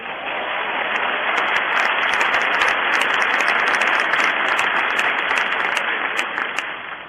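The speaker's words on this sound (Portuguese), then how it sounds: "Um aplauso a Deus pela vida dele." Sustained crowd applause at a Portuguese-language church service honoring a worker, dense and steady, filling the whole stretch without speech over it.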